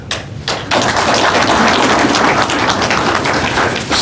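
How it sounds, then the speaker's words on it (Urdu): An audience at a trade promotion ceremony breaks into applause, starting with a few scattered claps and swelling into loud, dense, sustained clapping. "سارے اجلاس میں پہلی مرتبہ آپ نے تالی بجائی ہے"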